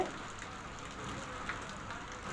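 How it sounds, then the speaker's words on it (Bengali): Rain falling heavily outside in Rajshahi city, a steady, even wash of drops spattering on surfaces, held at a constant moderate level with no voices for the whole stretch. "বাইরে বৃষ্টি হচ্ছে, একটু আপনাদের বৃষ্টিটা দেখাই যে বৃষ্টি অনেক জোরে হচ্ছে"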